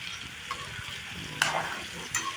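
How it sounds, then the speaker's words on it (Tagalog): Chicken, onion and garlic sauté in a pan for chicken afritada, a steady sizzle with a few sharp scraping stirs of a utensil against the pan, close and moderately loud, with no voices. "Ginisa na natin yung manok, sibuyas, bawang, saka gisa-gisa lang"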